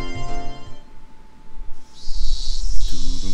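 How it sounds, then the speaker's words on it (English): Cicadas chirping in the visual novel Higurashi When They Cry, a bright sustained high buzz that swells in loudly after a few seconds, layered over background game music and a low rumble. "Even the chirping of the cicadas seemed joyful."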